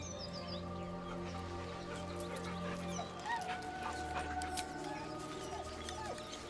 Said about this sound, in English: With a deep, heartbroken whine, the dog bows his head. The dog whimpers nervously,